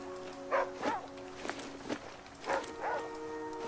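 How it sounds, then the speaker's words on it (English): A dog in the video game The Flame in the Flood barks several times in short, faint yaps spread across a quiet background, with light footsteps in between. "I know I can turn off his barking."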